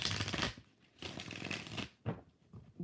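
A deck of tarot cards gets shuffled in close, crisp riffling bursts, with three or four rapid flurries separated by short pauses and no voices.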